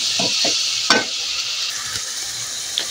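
Onion and ginger sizzle in a pan as fish sauce goes in for ginataang sitaw at kalabasa, with a steady hiss and a few close spoon scrapes and clinks.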